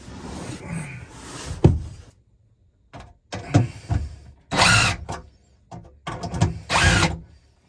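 Screws are driven out of a camper with a power driver in short, whirring bursts separated by silences. The bursts are close and loud, with a few clicks and handling noises between them.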